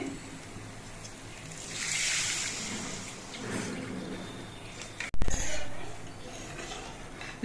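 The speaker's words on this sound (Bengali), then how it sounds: "এবার এর মধ্যে আমি ঝোল দিচ্ছি" Broth is poured into a potato and boal fish curry cooking in a pan, giving a soft watery splash. A sharp metallic clank follows near the end.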